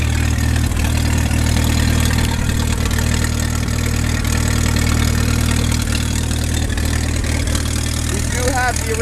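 A 1927 Farmall Regular tractor engine runs steadily at idle, a loud, close, low rhythmic chug that holds evenly throughout, with faint voice-like sounds near the end.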